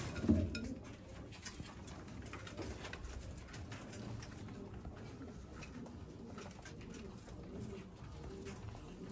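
Ferozpuri breeder pigeons in Sialkot coo softly and repeatedly, the faint throaty calls sitting in a quiet, slightly noisy room.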